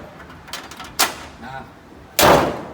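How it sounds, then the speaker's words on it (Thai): The hood of a used Mitsubishi single-cab pickup is shut with a solid slam near the end, preceded by a smaller metallic clunk and faint handling noises, with a voice in between. "เดี๋ยวผมจะปิดฝากระโปรงก่อนนะครับ"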